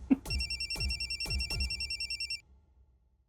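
A telephone rings indoors in a domestic setting, with four repeated electronic bell bursts in a steady rhythm, loud and close, that stop abruptly and leave near silence.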